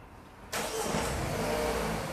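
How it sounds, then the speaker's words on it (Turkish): A Renault Megane 4 engine starts abruptly, jumping from near quiet into a steady, loud idle with a broad rushing hum that holds to the end, close by with no speech. "Çalıştırın aracı."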